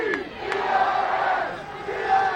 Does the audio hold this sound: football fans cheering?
yes